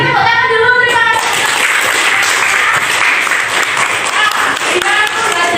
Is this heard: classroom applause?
yes